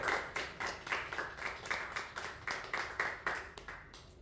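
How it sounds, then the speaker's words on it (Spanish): Church congregation applauding, rhythmic unison clapping in a steady beat of roughly four claps per second, moderately distant and fairly quiet. "Dale un fuerte aplauso al Rey de Reyes"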